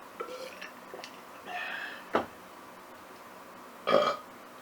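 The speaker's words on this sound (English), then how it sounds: "I don't need to burp into the mic" A person burps twice, the second one louder and longer, between quiet rustles and faint clinks of dishes, with no talking.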